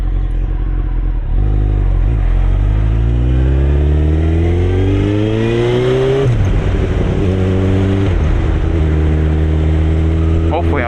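A 2001 Honda CBR929RR FireBlade sport motorcycle's exhaust roars loud and close as the engine accelerates, its pitch climbing through repeated rising sweeps that drop sharply at each gear change.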